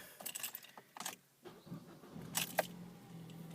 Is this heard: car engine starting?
yes